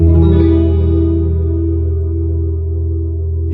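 Gibson Kirk Hammett "Greeny" Les Paul Standard electric guitar through chorus, compression and tape echo into a modeled Orange amp and cab, a loud sustained clean chord ringing out and slowly decaying with shimmering modulation.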